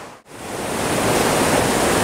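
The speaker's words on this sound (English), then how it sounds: "you can see here this river's running pretty good" Fast-flowing river running high at a bend, heard as a steady, dense rushing roar that swells in after a brief dip and then holds constant and close, with no talk.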